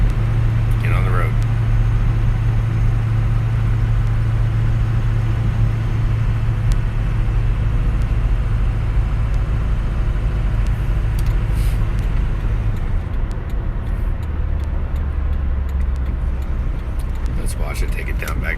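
A 2005 car cruises down the road with the pedal barely pressed. The engine and road rumble is steady and low, with someone talking over it in places.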